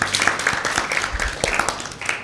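Applause for Team A at a Lenten Bible quiz, a steady wash of many hands clapping through the whole short stretch, moderately loud with no voices over it.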